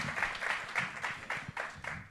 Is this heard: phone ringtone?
no